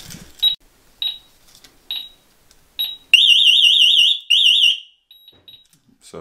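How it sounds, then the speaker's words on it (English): A Yale smart home alarm siren sounds: several short high beeps at steady intervals, then loud warbling siren bursts with a brief gap between them, close and piercing, no voices. "So the alarm's active. Now if I go like this, theoretically it should go off."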